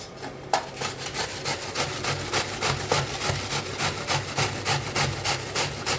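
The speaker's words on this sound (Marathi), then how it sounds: "आता किसणीन किसून घ्यायचं आहे" Cabbage, washed beforehand, is rubbed against a hand grater to shred it for crispy cabbage vadi: a close, steady run of rasping strokes in an even rhythm, roughly two per second, with no talking.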